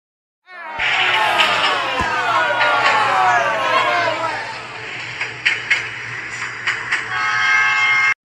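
A crowded passenger train runs along, with a continuous loud rumble and rattle of the rail cars. Voices and chatter sit underneath, and some sharp clanks and knocks come near the end.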